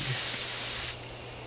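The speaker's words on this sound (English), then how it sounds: "Take out the night-night, put it in the sprayer. I take careful aim and spray the drug." In the video game Death Mark, a sprayer releases a steady, close burst of hissing spray that cuts off abruptly just under a second in, leaving faint background hum.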